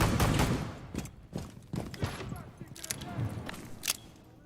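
Rapid P90 submachine gun fire in a video game, several sharp bursts spread across the moment, loud and close, with a voice talking over parts of it.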